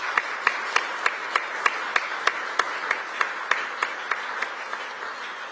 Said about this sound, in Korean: 우리에게 이 감동을 선물해 주신 대통령님과 여사님께 큰 박수로 환영을 부탁드리겠습니다.